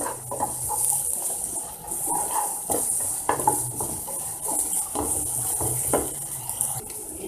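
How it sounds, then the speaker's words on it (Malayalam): Ginger garlic paste, about one and a half tablespoons, sautéing in a pan for a prawn biryani, with a steady bright sizzle under repeated scraping and stirring strokes and occasional utensil clinks. "ഒരു ഒന്നര ടേബിൾ സ്പൂൺ ഇഞ്ചി വെളുത്തുള്ളി ഇവിടെ അരച്ച് വെച്ചത് ഇട്ട് കൊടുക്കാം ഇതൊന്ന് നന്നായിട്ടൊന്ന് വഴറ്റിയെടുക്കാം"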